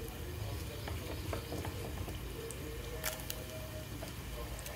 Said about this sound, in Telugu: ఆయిల్ వేసుకొని జీలకర్ర, ఆవాలు, శనగపప్పు, మినపప్పు వేసుకోవాలండి.